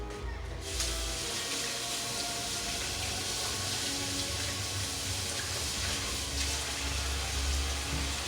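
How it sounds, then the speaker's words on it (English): Tap water running steadily into a sink as hands are rinsed, a broad continuous splashing hiss at close range with no talk. "let me rinse my hands"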